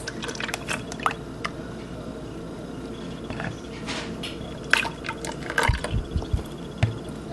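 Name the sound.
adding milk with sugar and salt for cake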